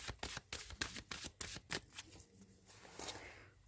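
Tarot cards being shuffled by hand, with a quick series of crisp riffling bursts in an uneven rhythm that slow and thin out toward the end, close and moderately quiet.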